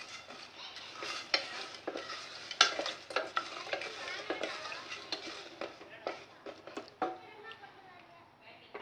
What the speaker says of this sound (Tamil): அதனால் கொஞ்சம் நேரம் கிண்டி விட்டுக்கிட்டே இருப்போம்